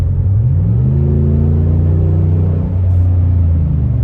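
A 2017 Ram 1500 pickup truck engine rumbles loudly and revs up smoothly, its pitch rising steadily then holding, close and continuous.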